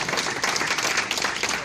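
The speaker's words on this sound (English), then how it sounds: "I think they deserve a round of applause." A room at a community board meeting breaks into dense, continuous applause for a deputy inspector and a detective, many hands clapping close and loud throughout.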